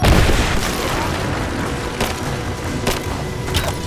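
Gunfire in the Rise of the Tomb Raider video game: a dense, continuous barrage of shots and booms with a few sharper cracks standing out, loud and sustained throughout.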